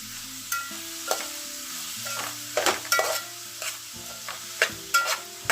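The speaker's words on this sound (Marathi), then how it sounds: "लाल तिखट पण आपल्या अंदाजाने घालायचं आणि परतून घ्यायचं" Onion, tomato and red chili powder sautéing in a pan for a prawn recipe, a soft sizzle under repeated scrapes and clinks of a spoon stirring the mixture.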